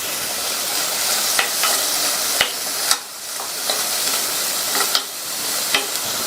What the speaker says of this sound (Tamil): இந்த வெஜிடபிள்ஸ் எல்லாம் 1 நிமிஷத்துக்கு வதங்கட்டும்.